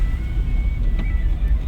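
Car interior during a driving lesson as the driver shifts into second gear: a steady low engine drone with a faint mechanical click near the middle, close and continuous, with no talking.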